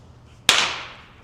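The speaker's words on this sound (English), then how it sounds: "Some crazy firecrackers going off in Chinatown" A single firecracker bursts sharply in Chinatown at a Friday night market, a loud close crack that rings out with a decaying tail.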